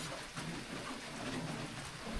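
Steady rain falls outdoors in a forest setting, a dense, even hiss of drops hitting surfaces throughout, with no talking.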